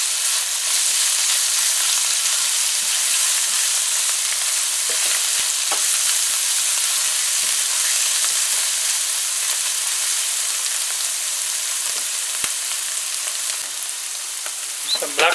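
Pumpkin and shrimp fry in oil in a pan with a loud, dense, continuous sizzle close by, broken now and then by faint scrapes as the mix is stirred; no one speaks.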